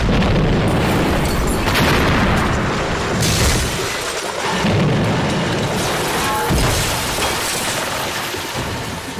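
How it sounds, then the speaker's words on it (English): A huge SC-1000 bomb detonates among a street of terraced houses, a deep roaring blast followed by a long rumbling, crackling wash of collapsing debris, loud and close with no talking. "Our third and biggest bomb was the SC-1000."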